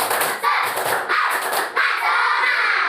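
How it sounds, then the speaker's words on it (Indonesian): Students in a classroom repeat a spirit clapping routine, several short bursts of unison clapping and thuds separated by quick gaps, close and lively. "Oke, lagi tepuk semangat"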